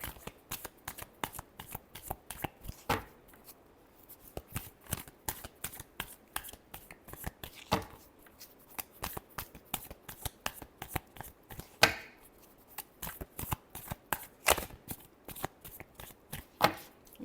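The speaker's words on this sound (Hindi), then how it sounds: "Last shuffle." Tarot cards are shuffled by hand in quick crisp riffles and rapid repeated flicks, close and clear, continuing in bursts with short pauses throughout and no talking.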